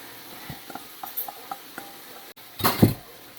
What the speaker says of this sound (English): you just give this a stir and make sure everything is nice and coated